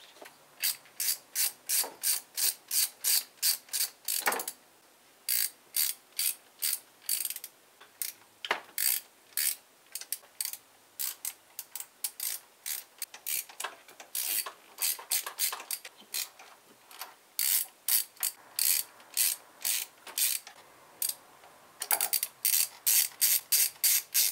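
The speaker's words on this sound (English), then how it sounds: "let's start by taking off these bolts. All these bolts will have to be replaced. These are all aluminum bolts." Rapid ratchet clicking in repeated close, loud bursts as aluminum bolts are loosened from a failed engine's cylinder head, with brief pauses between strokes and no talking.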